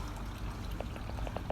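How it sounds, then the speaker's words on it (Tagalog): Shower water runs in a bathroom cubicle, a faint, soft pouring stream with scattered droplet splashes. "Kaya pinandar ko muna yung shower"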